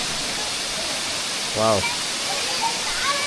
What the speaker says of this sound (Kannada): ದಯವಿಟ್ಟು ಎರ್ಮಾಯಿ ಜಲಪಾತದ ಮತ್ತೊಂದು ವೀಕ್ಷಣೆಯನ್ನು ಕಣ್ತುಂಬ್ಕೊಳ್ಳಿ